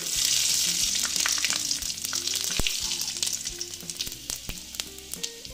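Bay leaf and panch phoron spices hitting hot oil, a loud bright sizzle that slowly settles into crackling pops, with a few sharp utensil clicks and no speech.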